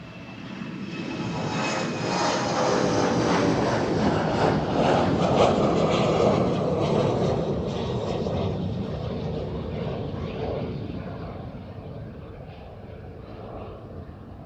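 An airliner departs on the daily flight to Inverness from Amsterdam Schiphol, its engine roar loud and broad, swelling to a peak and then slowly fading as it climbs away.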